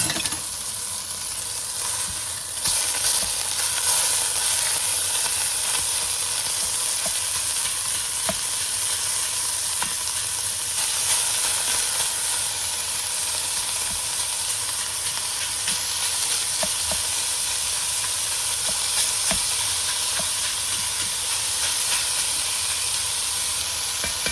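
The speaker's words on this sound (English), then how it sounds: "We are going to fry a pound of hamburger." Steady, loud sizzling of a pound of ground beef frying in a hot pan continues without a break, with occasional faint clinks of stirring.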